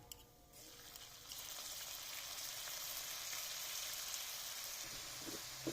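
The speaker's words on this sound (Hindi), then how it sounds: "अच्छी तरह से भूनेंगे अदरक लहसुन के पेस्ट को।" Ginger, garlic and green chili paste fries in a pan with browned onions, giving a steady, close sizzle that swells and holds throughout with no talking.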